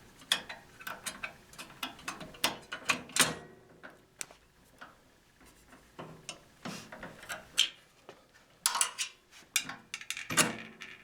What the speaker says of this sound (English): attach the blade to the main quill with your 5/32 Allen wrench